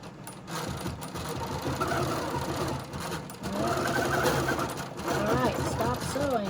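A sewing machine quilts a log cabin quilt in fast, close stitching bursts with short pauses between them, while a voice talks over the machine.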